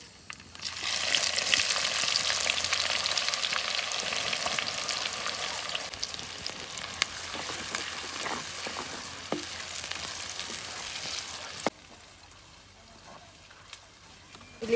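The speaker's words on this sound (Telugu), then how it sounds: "ఆయిల్ అయితే బాగా గరం అయిపోయింది. ఇప్పుడు ఆనియన్స్ వేసుకుందాం." Onions dropped into hot oil in a kadai, a loud, dense, steady sizzle that keeps going and then abruptly drops to a quieter fry near the end.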